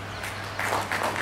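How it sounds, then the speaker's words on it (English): An audience claps, with scattered applause swelling louder halfway through. "Round of applause."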